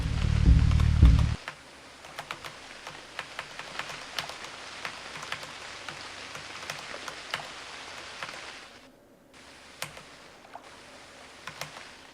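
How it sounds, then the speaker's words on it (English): Rain falls steadily in the survival video game Unreal World, a soft continuous patter with scattered drops, faint and even throughout after a brief louder burst at the start. "It's raining, so I can't go to sleep"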